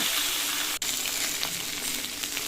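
Fish fries in a hot pan with a steady close sizzle, broken by one sharp knock as a piece is turned, then hissing on alone.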